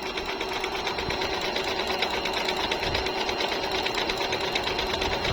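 A Jaguar sewing machine runs steadily, stitching a scallop pattern with a smooth, even mechanical whir that stays close and continuous throughout, with no talking.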